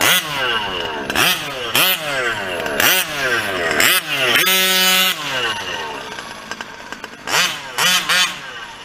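A nitro fifth-scale RC engine fitted with a brand-new shoe clutch revs hard in repeated sharp bursts, each rising then falling away, close and loud, with a short steady high whine in the middle and gaps of idle between.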